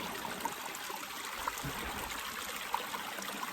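A mountain spring trickles and burbles steadily close by, with a constant soft rush of water and a few small splashy drips, and no talking.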